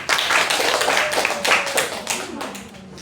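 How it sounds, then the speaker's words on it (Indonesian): A classroom claps hands during a micro-teaching lesson, a burst of sharp, uneven claps that fades out over a few seconds, close and fairly loud. "Tepuk tangan dong kalian dong."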